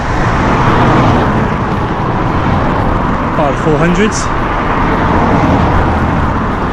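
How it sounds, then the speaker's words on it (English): Road traffic rumbles past at night in a steady wash of car noise, with a person speaking briefly over it. "So many cars tonight"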